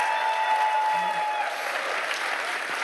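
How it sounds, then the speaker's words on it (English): Steady applause from a QuakeCon 2012 panel audience fills the clip, a dense wash of clapping at an even level throughout. "That's a big round of applause"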